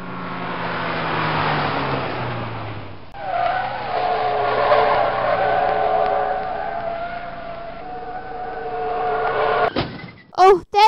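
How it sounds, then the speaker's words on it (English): A car speeds along a road, its engine roaring loudly and steadily with a tire screech, then an abrupt impact-like clatter near the end; music or other voices sit faintly under it. "Suddenly, a car came racing down the road."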